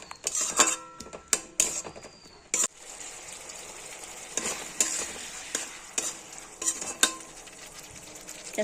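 Capsicum being stirred in spiced oil in a pan, repeated sharp scrapes and clinks of the spatula in uneven rhythm over a steady sizzle, close and fairly loud, no talk.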